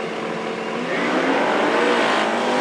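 Drag race cars launch side by side at Knoxville Dragway, one of them a Corvette. A loud, continuous engine roar builds and grows fuller after the first second, with faint tire noise mixed in.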